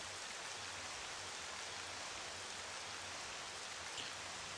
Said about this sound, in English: Oh yeah, we're in the rain.